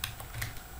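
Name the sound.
computer keyboard typing copy shortcut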